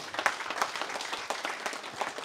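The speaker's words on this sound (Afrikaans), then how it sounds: "kom ons gee vir daai 2 mense 'n lekker hande klap in plaas van" Moderate applause from a gathered audience at a meeting of Angus cattle breeders, a brief patter of many hands clapping, fairly soft and close.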